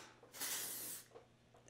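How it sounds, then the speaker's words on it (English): A single steady hiss of hairspray lasting over half a second, sprayed close up into hair roots, followed by faint rustling and a short burst at the end. "I spray it directly into my roots"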